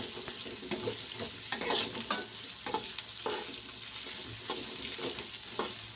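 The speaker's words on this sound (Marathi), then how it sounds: "तर कांदा हलवून घ्यायचे." Chopped onion with ginger and garlic frying in a pan for a capsicum sabzi, a steady close sizzle broken by the scrape and clatter of a spoon stirring.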